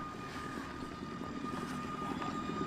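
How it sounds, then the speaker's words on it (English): A large remote-controlled airplane flies overhead, giving a steady, continuous engine drone with a constant mid-pitch tone and broadband hum, moderately loud and unbroken throughout. "a large remote-controlled airplane will carry Herky aloft and then drop it"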